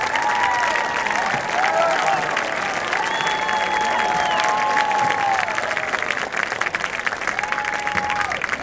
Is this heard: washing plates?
no